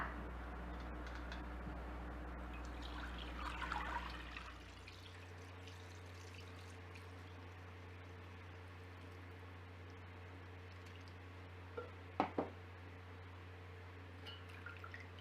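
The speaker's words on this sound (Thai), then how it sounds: "หลังจากพักจนเย็นสนิทแล้วเราจะทำการกรองหนึ่งรอบค่ะ วันนี้แม่สีจะใช้ผ้าขาวบางนะคะ" Homemade roselle and jujube herbal drink strained through cheesecloth, a soft steady pour and trickle of liquid over a low constant hum, with a few brief sharper drips or clinks near the end.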